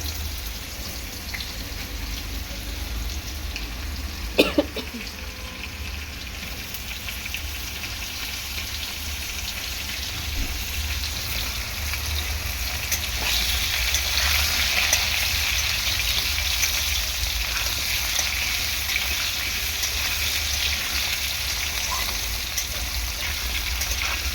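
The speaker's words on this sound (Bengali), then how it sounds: "আলুটাকে একটু শুধু তেলের মধ্যে ভেজে নেব" Potatoes frying in oil, a dense continuous crackling sizzle like light rain that holds steady and swells slightly midway, with one brief clatter early on.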